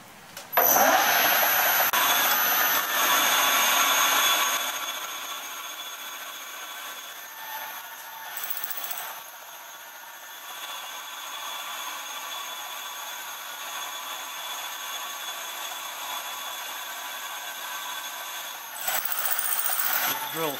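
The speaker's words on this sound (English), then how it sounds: "we're going to just bore some pilot holes, 1, 2, 3, 4, 5, 6 equally spaced pilot holes in a slight curve" A drill bores a series of pilot holes into a cast iron straight edge, a loud continuous grinding whine at first that settles into a steadier, quieter drone, with a brief burst again near the end.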